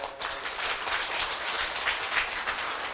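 A man's handclaps at a Buddhist temple family dharma gathering, a steady flurry of claps lasting a few seconds, fairly close and alone without speech.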